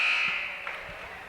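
A high-school girls' basketball game buzzer sounds the end of the third quarter, a loud flat electronic tone that fades out over about a second amid gym ambience.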